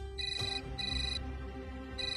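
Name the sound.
phone ringing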